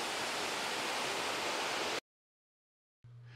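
A waterfall at Stinging Fork State Natural Area gives a steady, full rushing hiss of falling water for about two seconds, then cuts to silence before a quieter stretch with a low hum returns.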